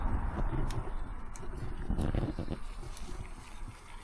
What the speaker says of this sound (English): It's quite breezy as well